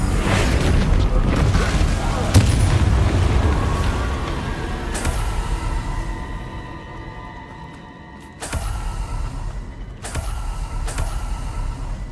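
Bombarda blasting spell in the video game Hogwarts Legacy, with several abrupt booming explosions spaced seconds apart over creaking, rumbling game noise.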